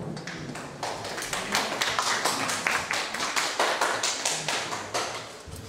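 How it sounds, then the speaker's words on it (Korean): Audience applause at a poetry recitation contest, with steady, distinct claps, fairly close and moderately loud, continuing evenly throughout without talking. "여러분 큰 박수 부탁드립니다."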